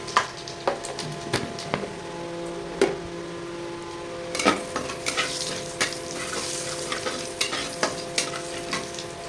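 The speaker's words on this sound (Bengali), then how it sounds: "আমি একটু একটু লবঙ্গ, দারচিনি আর এলাচ একটুখানি ফোড়ন দিচ্ছি। আর তার সাথে আমি 4-5টা জিরে ফোড়ন দিয়ে দিচ্ছি।" Whole cloves, cinnamon, cardamom and cumin seeds tempering in hot oil give a steady, fairly quiet sizzle with scattered small pops and crackles throughout, growing a little busier partway through, with no voices.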